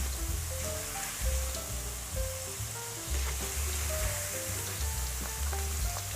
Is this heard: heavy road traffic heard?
no